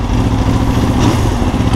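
A motorcycle engine runs loud and close with a steady, throbbing low rumble, sounding alone without any talk for under two seconds.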